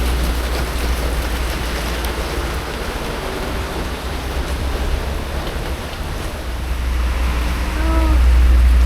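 Steady rain falls at a ferry port on the crossing from Bali to Java, a dense, even hiss that fills the scene with a low rumble underneath, swelling slightly louder toward the end.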